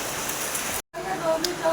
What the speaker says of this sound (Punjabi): ਬਾਹਰ ਬਾਰਿਸ਼ ਹੋ ਰਹੀ ਹੈ